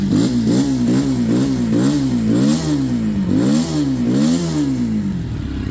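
A Geon Scrambler 250 motorcycle engine revving up and down repeatedly, close and loud, its pitch rising and falling in quick cycles before settling to an idle.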